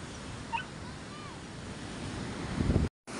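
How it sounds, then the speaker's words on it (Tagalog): Strong typhoon wind rushes across the coast at Bucana, Nasugbu, as a steady broadband roar with gusty buffeting against the microphone and faint surf beneath, rising briefly louder near the end. "Sobrang lakas ng hangin."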